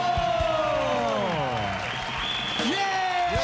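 A TV variety show studio audience applauds and cheers after a stage performance, with steady clapping and crowd noise under a host's loud, excited talk and whoops throughout.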